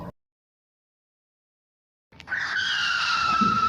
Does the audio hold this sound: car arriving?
yes